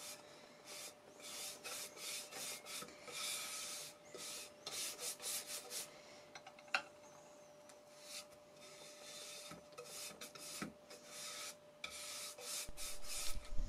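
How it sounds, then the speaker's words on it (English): A brush spreads a traditional size mixture over a wooden panel in quiet, close strokes, a repeated soft scratchy rubbing in irregular bursts with a faint steady hum underneath. "you just dip your brush in and apply some of the mixture over the wooden panel"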